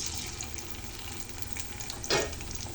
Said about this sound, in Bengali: তেলটা গরম হয়ে এসেছে, এখন আমি আলুগুলো ঢেলে দিব।